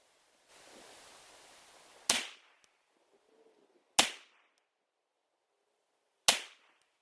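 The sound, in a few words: rifle shots fired outdoors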